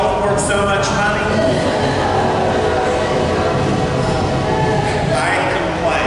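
A train rolls past near Gulfport with a loud, steady rumble of wheels and cars, its horn blaring in long blasts over the noise, while people talk underneath.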